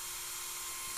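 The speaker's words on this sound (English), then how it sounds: "I don't drill it out very fast." A small Bosch drill bores slowly into a toy model car, making a thin, steady high whine that sounds faint and close, with no talking.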